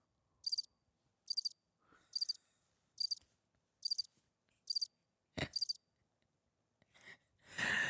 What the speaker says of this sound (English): Oh, the crickets.